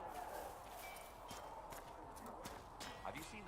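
Horse hooves clip-clopping at a walking pace in the fantasy game Dragon Age: Inquisition, faint and steady under ambient noise.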